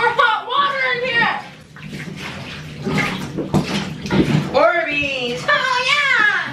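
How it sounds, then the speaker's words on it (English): Hot water running into a bathtub full of Orbeez, a steady splashing rush underneath loud, excited children's voices talking and squealing throughout. "I'm about to put some more hot water in here."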